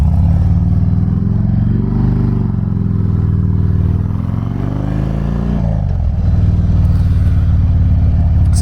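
Custom Harley-Davidson Fat Bob motorcycle engine rumbling loud and close while riding, a steady low throaty drone with rising revs, a brief dip around a gear change, then pulling strongly again.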